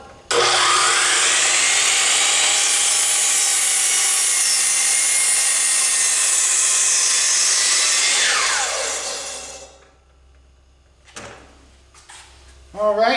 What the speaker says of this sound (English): ready for a miter cut in 3